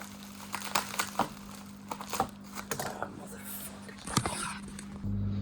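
Packaging for Mazda RX7 FD canards being torn open and crinkled, close up, with irregular sharp crackles and rustles over a steady low hum, a brief faint voice in places.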